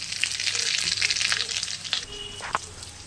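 Loud, crackling sizzle of dried red chillies and radhuni seeds hitting hot oil, bright and close, with a couple of clinks near the end.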